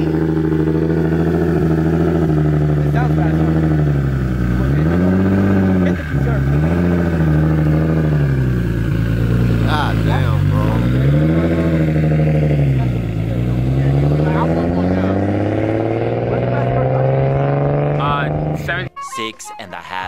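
A BMW E92 M3 engine roars loudly and close, revving up and down through several rising and falling sweeps as the car accelerates hard, ending abruptly with a few clunks.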